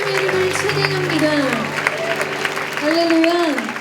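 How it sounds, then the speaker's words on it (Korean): A young adults' church congregation at Onnuri Church applauds God in worship, with loud, continuous clapping beneath a sustained voice and tonal music. "우리 선한 목자 되시는 주님 앞에 감사와 찬양과 영광의 큰 박수를 나누겠습니다."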